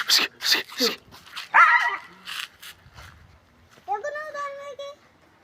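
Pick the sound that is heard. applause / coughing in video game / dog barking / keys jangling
dog barking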